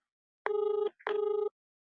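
Telephone ringback on an outgoing call: two evenly spaced electronic ring bursts, each about half a second, clear and close against silence.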